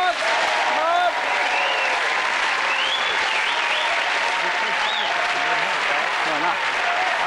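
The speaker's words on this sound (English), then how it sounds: "You applaud, please, for the EastEnders effort." Steady, loud applause from a studio audience cheering a television quiz-show moment, with scattered shouts and whoops and voices calling out over the clapping throughout.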